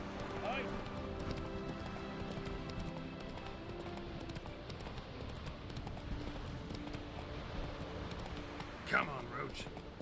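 Hooves of Roach, the horse in The Witcher 3 on PS5, clip-clop steadily at an even trot through continuous game ambience, with one brief louder burst near the end.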